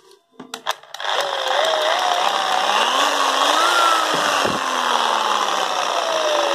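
A Hitachi 100V handheld electric power tool rated 1150W, Japanese-made, spins up after a few clicks and runs steadily with a smooth whine, close and loud, shifting pitch slightly.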